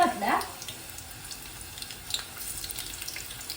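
Seven or eight garlic cloves sizzle in hot oil. A short loud burst at the start drops to a soft, steady crackle, with a few faint clicks later on.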